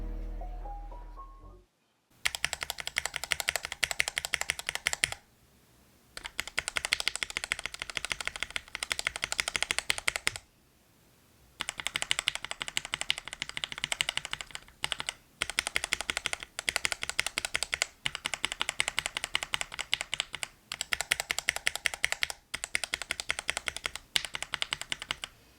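Rapid clacking keystrokes on a Tofu 65 mechanical keyboard fitted with lubed Tealios V2 switches come in dense bursts, separated by short pauses, close and crisp.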